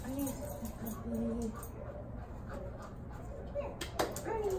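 A puppy whimpers in thin, high whines, a few drawn-out cries close by and fairly quiet.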